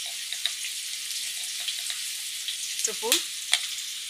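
Egg fried rice being stir-fried in a pan, with a steady soft sizzle and occasional scraping stir strokes, close up while a voice speaks briefly.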